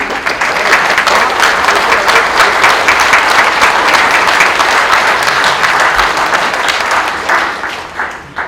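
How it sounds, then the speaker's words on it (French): A crowd at a pilgrimage gathering in Beauraing applauds the composer: sustained, full, even clapping from many hands that tapers off near the end. "On peut l'applaudir."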